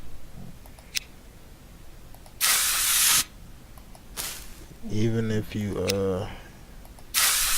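Plant-misting sprays from the game Weed Shop 2, coming as a few short hissing bursts of about half a second to a second, with someone talking in between and over some of them.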